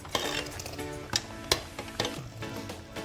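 Hot oil tempering sizzles and crackles as it is poured into dal in a pressure cooker, with a few sharp metallic clinks of a spoon stirring over the steady frying hiss.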